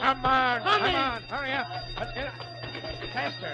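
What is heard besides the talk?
alarm ringing in radio drama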